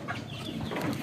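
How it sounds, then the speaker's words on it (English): Chickens clucking inside a chicken house, a continuous dense mix of overlapping hen calls at close range, steady in loudness and without speech. "these chickens are everywhere"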